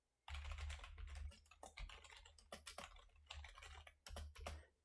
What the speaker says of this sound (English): let's go ahead and test my keyboard and see how it picks up the keyboard in the background